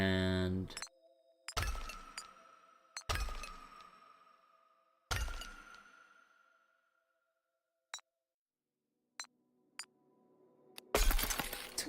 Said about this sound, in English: when you reset, you have that glass shattering sound, that's so loud